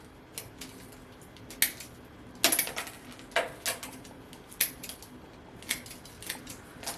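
Scissors or shears snip through the root mass of a potted Juniperus procumbens bonsai, a series of separate sharp cuts at an irregular rhythm, close and fairly quiet, with no talk.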